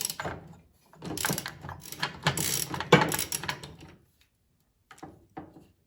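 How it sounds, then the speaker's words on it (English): A large wrench works against a nut on the small axle of a wheeled MTD snow blower, giving close metallic ratcheting clicks and scraping in uneven bursts, then a few faint taps after a quiet gap. "I'm going to use this giant wrench to hold on to this little mini axle, and then hopefully I can unscrew the other side."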